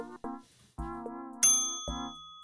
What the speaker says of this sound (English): If you ring the bell, you can skip the vote.